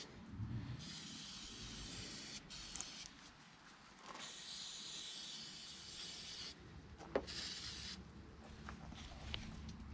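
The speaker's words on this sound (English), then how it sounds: "go ahead and spray this with a protectant" An aerosol protectant spray sprays in several long hissing bursts separated by short pauses, close and fairly loud, while servicing a Nissan Altima engine bay.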